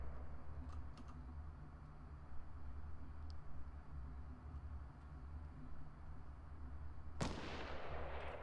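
Gunfire in the Fortnite Battle Royale video game on PC, a few faint distant shots over a steady low in-game hum, ending with one sharp, loud crack near the close.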